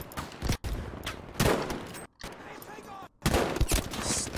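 Gunfire in the first-person shooter Battlefield V, with loud bursts of shots broken by brief silent gaps, and a player's voice talking over the fighting.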